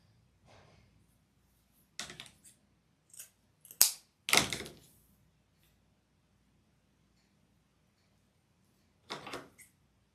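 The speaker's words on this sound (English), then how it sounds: "I'm going to cut that at an angle" Scissors snip yellow wreath material at an angle in a few short, crisp cuts spaced across a quiet room, with brief pauses between clusters of snips.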